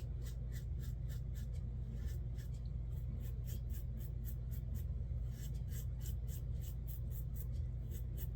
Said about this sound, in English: I do like the 6C razor better than the 6S because of how slick it glides across the face